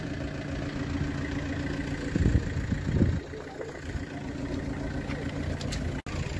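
A diesel car engine idles with a low, even hum and steady rumble, broken by two brief louder throbs partway through, while a voice talks faintly nearby.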